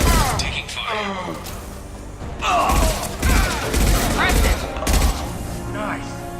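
Gunfire in Mass Effect 2 crackles in a dense, sustained fusillade with repeated thudding impacts. Voices talk over it throughout.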